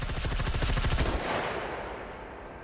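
Rapid automatic gunfire from a weapon in the survival game SCUM, a loud continuous burst of shots for about a second, then a ringing decaying tail that fades out.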